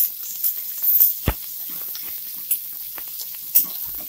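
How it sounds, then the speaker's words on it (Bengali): Garlic paste and green chillies fry in a pan with onions, giving a soft steady sizzle broken by a few sharp stirring scrapes and clinks, and no voices. "রসুনটা একটু ভেজে নেব।"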